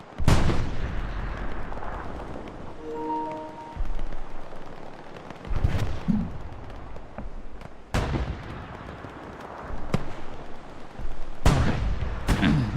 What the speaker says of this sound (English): Now, I do hear some shots coming off of tanks.